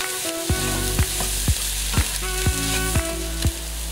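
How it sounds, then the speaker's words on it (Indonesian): Bean sprouts stir-fry in a hot pan for a Pad Thai, a loud continuous sizzle broken by sharp, regular clanks of a spatula scraping and tossing about twice a second. "Kita tumis togenya sebentar saja, kira-kira 2 menit agar tekstur togenya masih garing."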